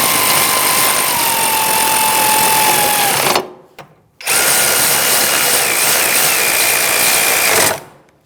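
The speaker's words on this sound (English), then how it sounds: "I'm going to use my electric ratchet just to snug it up before I torque it" Electric ratchet with an 18mm socket on an extension snugging a caliper bracket bolt on a 2016-2025 Chevrolet Malibu rear hub; a loud, steady whirring buzz runs about three seconds, stops briefly, then runs again for several seconds, close up.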